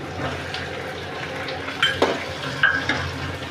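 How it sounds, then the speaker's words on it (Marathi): Onion added to a hot pan and stir-fried for a restaurant-style prawns chilli, a steady sizzle with a few scraping stirs, close by and without talk. "आता आपण कांदा घालून घेऊ"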